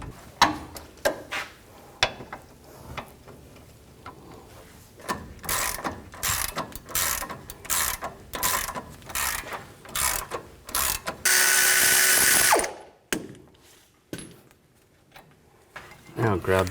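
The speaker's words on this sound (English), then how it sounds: "Now I'm going to take out the brake caliper bracket bolts." Ratchet clicking in bursts as a 21mm socket works loose the brake caliper bracket bolts on a 2007-2014 GMC Sierra 3500 HD, with a loud sustained grinding stretch midway and a voice talking between the repeated ratcheting strokes.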